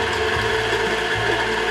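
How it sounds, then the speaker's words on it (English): Electric hand mixer on low speed creaming soft cookie dough for strawberry white chocolate chip cookies, giving a steady loud whirring drone with slight mechanical rattle, close and continuous, no talking. "Just put your mixer on just a low speed."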